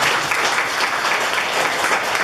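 Steady applause from the audience at an alumni association general meeting, a dense wash of clapping hands that holds evenly throughout with no voices over it.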